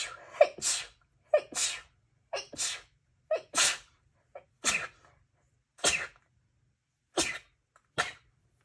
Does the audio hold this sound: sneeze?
yes